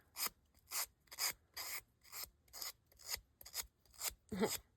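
Paper edges being rubbed to distress them for a collage cover, about ten rhythmic, close rasping strokes in even succession, each a short dry scrape, with no talking.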